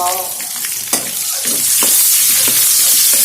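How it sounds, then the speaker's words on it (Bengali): Onions dropped into hot oil for a vegetable curry, a few clatters of stirring before the sizzle swells into a loud, steady, close frying hiss. "এখন আমরা গরম তেলের ভিতরে পেঁয়াজ দিয়ে দিব।"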